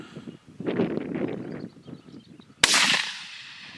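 A single sharp rifle report from a Savage 6.5 Creedmoor during a long-range woodchuck hunt outdoors, a loud crack with a ringing tail, following a stretch of soft rustling and wind noise.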